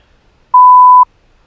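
A workout interval timer gives one clean, loud electronic beep lasting about half a second, alone against near silence.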